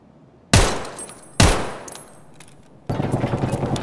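Gunfire in the video game Escape from Tarkov: two sharp, loud single shots with decaying tails, then a rapid sustained burst of automatic fire.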